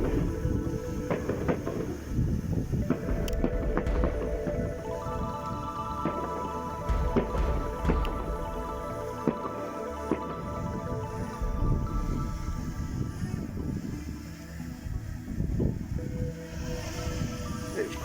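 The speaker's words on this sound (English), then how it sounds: "It's quite windy." Steady low wind buffeting and rumbling across a microphone, a continuous gusty roar with some faint tonal hum underneath.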